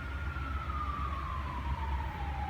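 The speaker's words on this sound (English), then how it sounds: "Pardon the sirens outside" Emergency vehicle siren wailing outside in the city, a single steady tone slowly falling in pitch over low traffic rumble, moderately distant and heard alone without talk.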